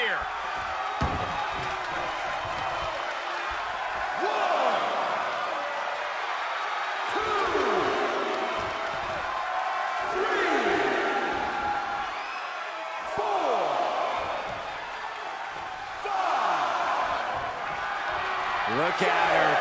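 Arena crowd in a wrestling video game, a steady roar of cheering and whooping that swells and dips throughout, with occasional sharp slams cutting through the noise.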